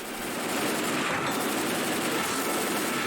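Gunfire in Left 4 Dead 2, a steady, dense wall of shooting that fills the whole stretch and sounds close and loud, with no talk over it.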